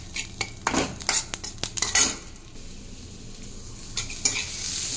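Onion fries in oil with a pinch of salt while a metal spatula clatters quickly against the pan, then the stirring stops and a steady, close sizzle continues alone.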